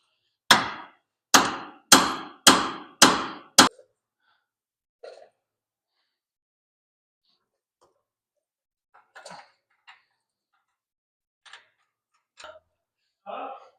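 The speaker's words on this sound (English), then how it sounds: "You're gonna want to use a rubber mallet to bang it into place." A rubber mallet pounds the upper control arm into place on a rusty 2010 Ford Ranger 4x4: five loud, sharp blows in quick succession, then near silence broken by a few faint, scattered knocks and noises.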